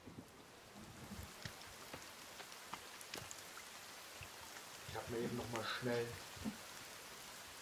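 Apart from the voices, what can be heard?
thunderstorm rain in the video game The Forest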